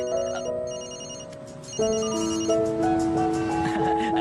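A mobile phone ringtone in the Ultimate Spider-Man cartoon plays a bright electronic melody, looping continuously and fairly loud, with no voices.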